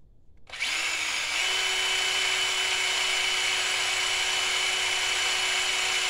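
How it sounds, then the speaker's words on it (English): A power drill with a dull bit starts up and runs at a steady high-pitched whine, boring into a metal ignition rotor adaptor continuously and close by. "I should have sharpened the drill before I started recording"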